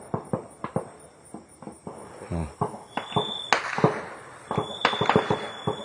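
Gunfire and bomb explosions near Rantau Panjang, Kelantan, by the Thai border, come as a string of sharp cracks and bangs at irregular intervals, some in quick bursts, heard from a distance with crickets or insects buzzing steadily behind.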